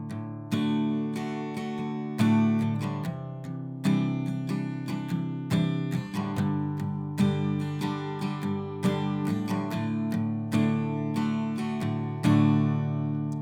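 Acoustic guitar strummed through a full chord progression, with bright, ringing chords struck in a steady rhythmic pattern and chord changes every couple of seconds, played close and alone without talk.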